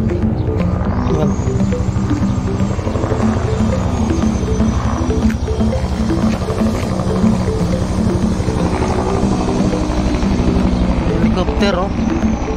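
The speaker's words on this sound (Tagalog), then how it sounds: "Helicopter, oh." Helicopter passing overhead at a construction site near a residential tower and mall, its low throbbing rotor drone steady throughout beneath nearby talk and city street noise.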